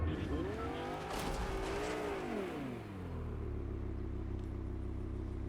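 A car engine roars and revs steadily in the video game Fortnite, with tires squealing in a sweeping pitch bend as it turns, loud and continuous throughout.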